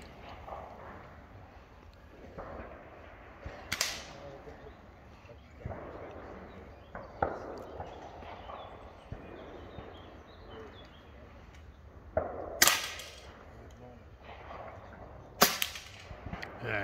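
An Air Arms XTi-50 competition air rifle fires several sharp, separate cracks spread across the span, with quieter handling noise and ambient sound in between.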